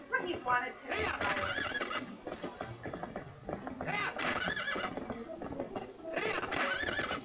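Epona the horse in the Zelda Twilight Princess video game whinnies in repeated bursts over galloping hoofbeats, loud and close, with someone talking in the background.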